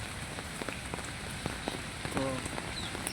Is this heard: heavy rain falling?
yes